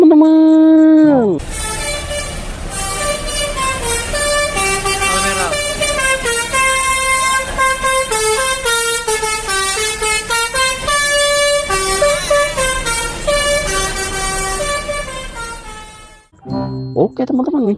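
Loud multi-tone melodic air horns from a Sudiro Tunggal Jaya bus play a long, continuous sequence of musical notes. The honking sounds close and runs for about fifteen seconds without a break, then cuts off near the end.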